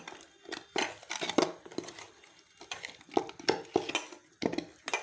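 Pieces of fish being mixed by hand with turmeric and salt in a bowl, giving irregular wet squelching and clinking knocks against the dish, close and fairly loud with no talk.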